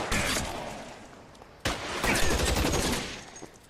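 Rapid machine gun fire in a shootout in the 1940s Los Angeles detective video game L.A. Noire, loud continuous bursts broken by a sharp pause and a fresh burst, with no talking.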